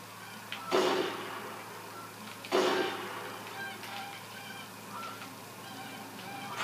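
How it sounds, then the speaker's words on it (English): Two loud honking bursts from a flock of geese in a hunting video game, about two seconds apart, followed by softer scattered calls. "Here comes a flock of geese."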